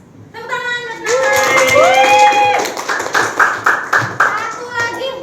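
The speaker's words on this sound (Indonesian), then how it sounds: "Tepuk tangan" Classroom clapping in an Indonesian language lesson: a sustained, fairly close burst of hand claps among students, mixed with children's voices and some sung or spoken tones, ending in a few separate sharp claps.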